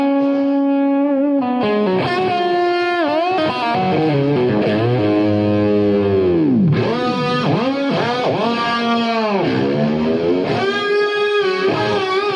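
An electric guitar runs through a Roland Boss GT-8 multi-effects unit, set to stack return, into a power amp: loud, sustained distorted notes with heavy bends and swooping pitch slides, played continuously with no talking.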